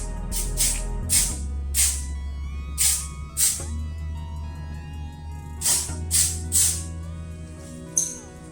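An aerosol can of white lithium grease is sprayed onto a Secretlab chair's mechanism in a series of short, close hissing bursts, about eight in all, separated by brief pauses, with faint metallic handling sounds between them.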